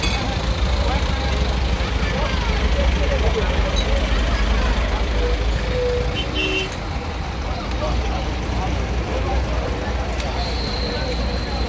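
Vehicles, including buses and trucks, pass along the Dhaka-Barisal highway in a constant loud roadway rumble with wind noise and occasional faint tonal whines, and voices are heard over the traffic.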